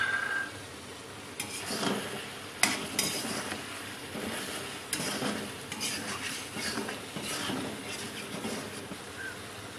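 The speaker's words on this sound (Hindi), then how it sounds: "अब हम इन सारी चीज़ों को मिक्स कर लेंगे।" A spoon stirs chicken with ground coriander, white pepper and other spices in a pot for a chicken handi, giving soft scraping and clinks of metal on the pan over a faint sizzle; quiet and close, with no talk.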